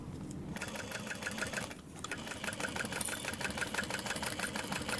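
A sewing machine stitches a seam on a bubble bag in a fast, steady mechanical whir of needle strokes, running close and continuous with a brief pause near the start and another near two seconds.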